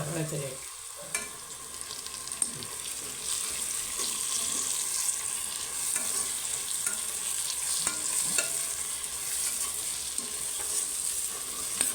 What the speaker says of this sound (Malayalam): നമ്മുടെ സബോളൊക്കെ നന്നായിട്ട് വാടി വരുന്ന വരെ ഇങ്ങനെ ഇളക്കിക്കൊണ്ടിരിക്കണം